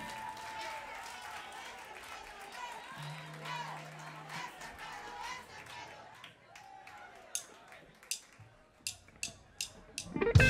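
Concert audience applauding at a show in Málaga, a steady wash of clapping and crowd noise under continuing music, thinning out and ending in a few sharp separate claps.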